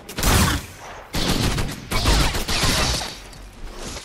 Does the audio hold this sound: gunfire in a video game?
yes